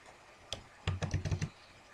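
Keys clack on a computer keyboard: one isolated tap, then a quick run of about five close, crisp keystrokes, near and fairly quiet with no talk.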